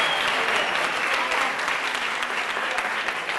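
Loud, dense studio-audience applause on a Catalan spelling quiz show, sustained clapping from a crowd that stays strong and even from start to finish.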